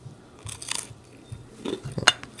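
Close crunching bites into crispy oven-baked Mama Cozzi's pizza bagel bites, several sharp crackling bites with quieter chewing between them, no talking.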